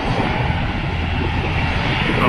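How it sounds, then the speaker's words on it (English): A Jet2 passenger jet lifts off on a flight to Tenerife, its engines a steady broad roar that fills the air at constant loudness without a break, heard from a distance with no voices. "Off it goes, you should just be able to see it there in the faint distance as it lifts off"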